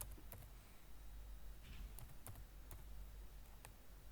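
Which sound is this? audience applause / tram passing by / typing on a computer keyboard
typing on a computer keyboard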